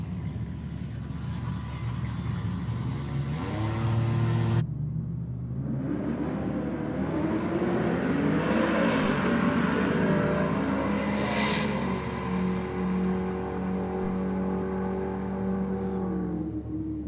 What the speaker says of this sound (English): be doing a few launches in the Supra